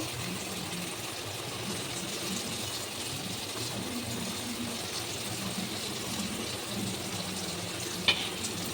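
Chilli powder, ginger paste and ground coriander fry in a pan for paneer butter masala, giving a steady, even sizzle with faint stirring scrapes and one brief clink near the end.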